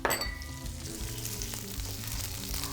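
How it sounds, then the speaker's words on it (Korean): Onion, carrot and wood ear mushroom stir-fry in a hot wok, a steady sizzle with scraping and occasional light clinks of the utensil, close and continuous with no voices. "썰어둔 양파와 당근, 목이버섯을 넣어서 볶아주세요."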